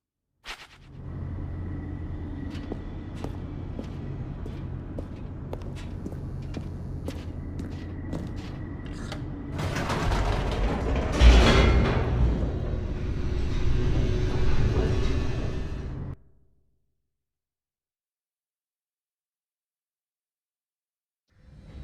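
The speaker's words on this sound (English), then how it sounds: "The elevator raced downward, plummeting towards an unknown fate." Elevator descent in the video game The Stanley Parable: a steady mechanical rumble with rhythmic clanks that swells into a louder rushing roar, then stops abruptly into silence.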